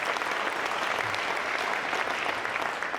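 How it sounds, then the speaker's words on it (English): Audience at a Denver NWSL team stadium announcement breaking into sustained applause, an even wash of many hands clapping at once with no break. "Yes, we should clap for that."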